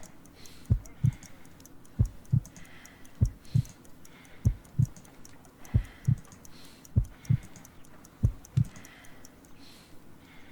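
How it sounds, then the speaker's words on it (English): Heartbeats thump in a steady lub-dub rhythm, about eight double beats, slow and low, in the Sherlock Holmes: Crimes and Punishments video game, with a faint ticking layer above. "I need to concentrate and count the heartbeats."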